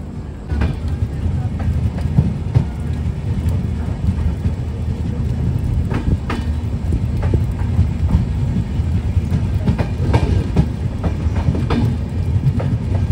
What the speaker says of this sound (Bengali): আর 7টা 20-তে আমাদের ট্রেন মুকেরিয়ান স্টেশন থেকে ছেড়ে দিল।